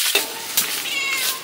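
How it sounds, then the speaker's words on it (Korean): A cat meows repeatedly outdoors at a cold winter campsite, with drawn-out, fairly loud cries close by and brief sharp onsets between them. "제 고양이 또 왔어요."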